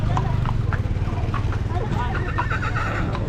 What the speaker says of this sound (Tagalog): Dito na yung kabayo mo.